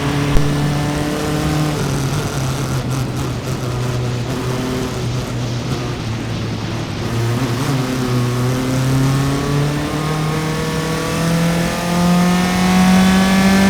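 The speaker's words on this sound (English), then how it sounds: "That's the Club Formula Continental right in front of those two S2000s as they come by" A Club Formula Continental single-seater and two Honda S2000s race past at Mid-Ohio during an SCCA event, engines droning loud and steady with rising and falling pitch as the cars pass and shift.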